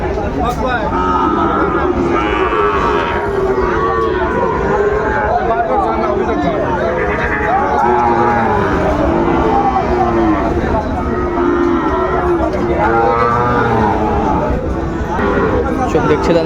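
Sahiwal cattle and calves moo repeatedly at a busy cattle market, loud overlapping lowing calls rising over constant crowd chatter and nearby talking throughout.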